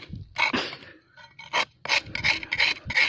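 Bark on a durian tree trunk is scraped by hand in short, uneven rasping strokes separated by brief pauses, close and fairly loud with no talking.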